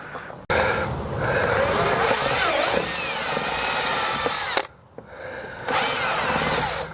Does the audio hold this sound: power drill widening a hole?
yes